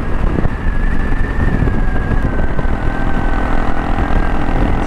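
A KTM 690 Enduro R dual-sport motorcycle is pinned at full throttle up a hill, a loud, continuous engine drone with rushing wind, steady and close for the whole stretch.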